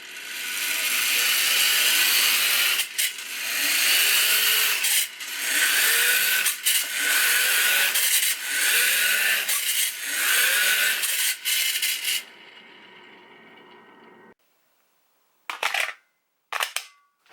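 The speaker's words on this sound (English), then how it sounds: "We have the amazing Lego gear ratio hooked up to, finally, a drill." A power drill whines loudly while plastic Lego gears in a 1:67 ratio train clatter and rattle in fast ratcheting bursts, stopping and restarting, then a few short final whirs.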